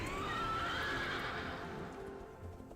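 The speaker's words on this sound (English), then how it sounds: "Hopping on the horse." A horse mount in World of Warcraft's Dragon Isles lets out a loud, close, drawn-out whinny, followed by soft hoof clatter as it fades.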